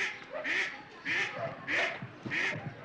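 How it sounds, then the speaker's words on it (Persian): Village ducks in Lamleng quack in four evenly spaced, fairly close calls, each a short nasal burst with quiet gaps between. "کرشمه مرغان در ده لامله"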